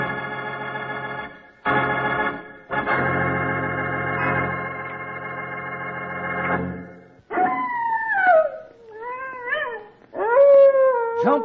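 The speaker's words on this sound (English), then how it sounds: "That's the howl of a prairie wolf, Charlie." A prairie wolf howl as a radio drama sound effect: sustained tonal wails with broken gaps, then several rising and falling howls, loud and close, with no talk over them.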